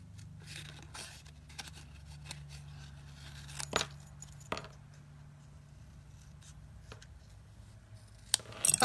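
Scissors fussy-cutting paper pieces for handmade greeting cards: quiet, intermittent snips and crisp slicing with a few sharper clicks and light rustles, close by in a hushed room.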